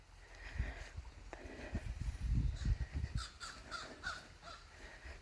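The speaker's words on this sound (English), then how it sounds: "Molly, you gonna chase the birds?" Several crow caws ring out over outdoor background noise and soft rustling, fairly close and irregular.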